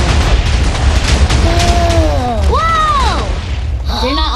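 A TNT block detonating in Minecraft gives a deep, loud boom with rumbling debris, followed by some swooping, whistling game sounds.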